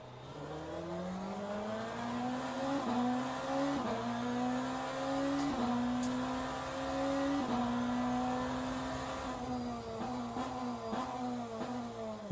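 A BMW race car engine in Le Mans Ultimate, a steady loud droning roar that climbs in pitch through a series of upshifts with brief drops between gears, accompanied by faint tyre noise and occasional clicks.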